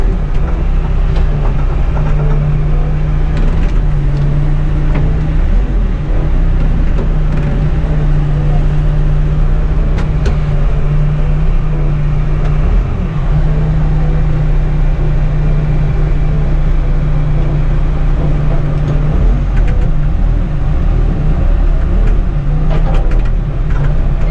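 Bobcat V519 Versahandler telehandler making a two-point turn in snow: loud, steady diesel engine drone with a sustained hum and occasional mechanical clunks. No talk.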